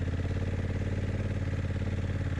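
A Honda Africa Twin DCT motorcycle engine runs steadily off road with throttle applied before pulling away downhill, a close, even, rhythmic mid-pitched chug with no talk.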